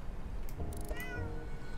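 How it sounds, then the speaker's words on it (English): A cat meows once in the video game Horticular, a short, clear tonal cry with a rising and falling pitch set over soft background game ambience. "There's a cat here."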